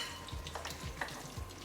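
Beef pieces searing in a hot pan for beef bourguignon, giving a soft continuous sizzle broken by a few low thumps and scrapes as pieces are moved, fairly quiet and close.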